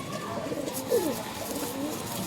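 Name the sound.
pigeons cooing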